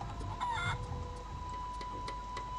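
A feral chicken in the game The Curse of Monkey Island gives a short burst of clucks near the start, close and clear, then falls quiet over a faint steady hum.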